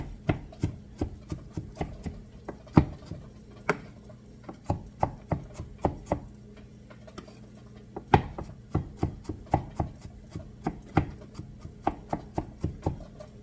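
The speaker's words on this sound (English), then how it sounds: "we're back to mincing 3 garlics" Garlic cloves are minced with a knife on a board, dozens of sharp close taps in irregular bursts with short pauses, no talking.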